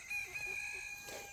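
A guinea fowl and chicken hybrid on a homestead gives a faint, thin call lasting about a second amid quiet farmyard background, with no talk.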